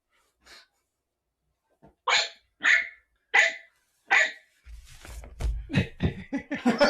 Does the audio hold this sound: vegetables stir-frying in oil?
no